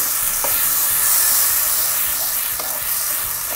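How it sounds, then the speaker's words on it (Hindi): Tomato puree poured into dal makhani in a hot pan, setting off a steady hiss and sizzle with a couple of sharp stirring clicks, close and continuous. "और अब मैं इसमें डालूंगी ये जो मैंने 3 टमाटर की प्योरी बनाई है,"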